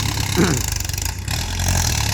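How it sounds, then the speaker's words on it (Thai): A steady, low diesel tractor engine drones throughout as it pushes earth, rumbling continuously like heavy machinery working nearby, with no voices standing out. "ตอนนี้รถไถกำลังดัน"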